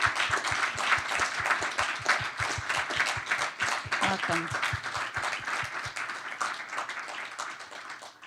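Large crowd applause welcoming new faculty at a College of Engineering town hall: steady, dense clapping that sustains throughout with a brief spoken word over it, tapering slightly toward the end.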